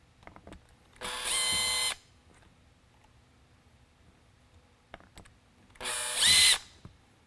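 A power drill drives a screw into the housing of a Whelen ION Series surface-mount Super-LED light, running in two short bursts separated by quiet, close and loud.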